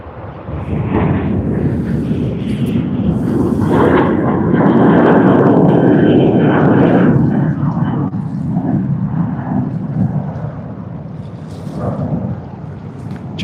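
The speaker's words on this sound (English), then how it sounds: "Just another domestic departure out of Sydney International Airport." An airliner on a domestic departure from Sydney Airport roars down the runway and climbs away. The deep, rumbling jet noise swells to a loud peak midway, then gradually fades as the aircraft pulls into the distance, with wind buffeting the microphone.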